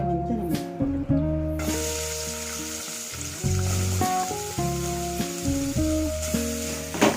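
Chopped onions crackle and sizzle in hot oil in a pan, a steady frying hiss heard beneath loud, continuous background music.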